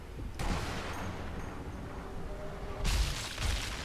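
Sniper rifle shots in the video game Sniper Elite V2, with two loud broadband booms, one near the start and a stronger one about two-thirds through, each trailing into a rumbling tail over steady game background noise.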